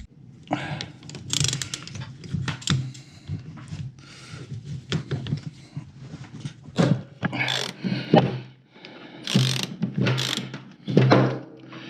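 A 14 mm wrench works on the carburetor bowl of a surging generator, giving repeated ratcheting clicks and metallic clatter in irregular bursts, close and fairly loud, with no talking.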